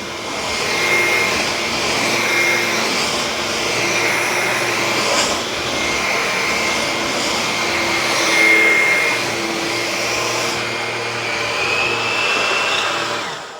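A Dyson V9 cordless vacuum and a Bissell FurGuard 4039 vacuum run together, producing a loud, continuous whirring roar with a faint high whine, steady throughout with slight swells, close by and without speech.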